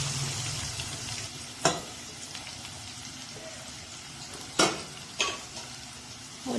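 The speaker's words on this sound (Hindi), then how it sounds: "मैंने ये चॉप प्याज है तकरीबन 1 पाव," About a quarter kilo of chopped onions sizzling in hot oil in a pan, a steady close frying hiss broken by a few sharp stirring clatters.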